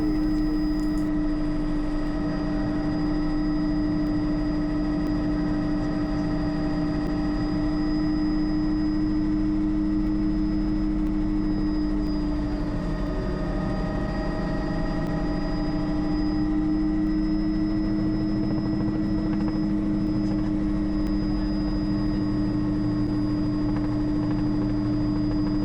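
A helicopter in flight over Kent, heard from inside the cabin as a loud, steady rotor and engine drone with a constant whine, continuous throughout without talk.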